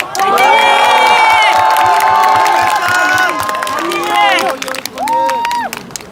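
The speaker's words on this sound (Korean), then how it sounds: "박수 한번 주십시오" A large crowd at a political campaign rally outside a district office cheers and shouts loudly. Bright, overlapping whoops and voices swell together, then break into shorter bursts near the end.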